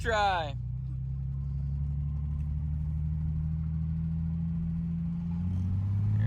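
A Datsun 240Z swapped with an RB20DET engine pulls away, a deep steady engine drone held close inside the car, its pitch dropping near the end as the gear changes, with a voice heard briefly at the start.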